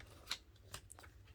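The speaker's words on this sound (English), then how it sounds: "And you're going to cut a strip." Scissors cutting a strip of patterned paper: a few crisp, quiet snips spaced unevenly, close and alone with no talk.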